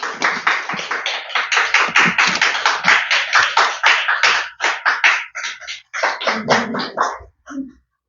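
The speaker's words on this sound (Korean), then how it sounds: "나오실 때 힘찬 박수로 맞이해 주시면 감사하겠습니다." Congregation clapping in church to welcome the pastor, a vigorous run of distinct, close hand claps with a fairly regular rhythm that breaks off briefly and then resumes before fading out.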